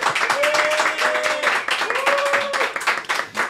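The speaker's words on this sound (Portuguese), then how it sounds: "Recebam com forte aplauso" Audience applause welcoming a guest onto a podcast set, a dense burst of clapping that carries on steadily for several seconds.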